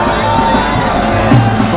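Dense, continuous crowd hubbub at the Pushkar Holi festival grounds, a steady wash of overlapping voices with scattered shouts and whoops rising from a large gathering, loud and close throughout.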